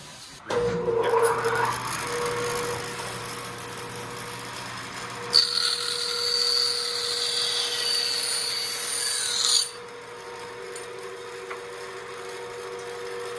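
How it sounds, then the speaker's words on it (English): Hand saw deepening the kerf in an axe handle of a Brant & Cochran Maine half-wedge, a close rasping stroke that starts suddenly and runs steadily, turning brighter and harsher midway before easing back to a softer scrape. "I'm going to go in there and cut the kerf a little deeper"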